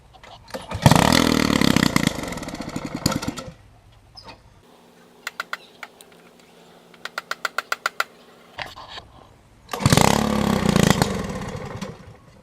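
A lawn mower engine fitted with a homemade custom exhaust revs hard at full throttle in two loud, roaring bursts, with quieter stretches between them of a low idle and a series of sharp, rapid pops.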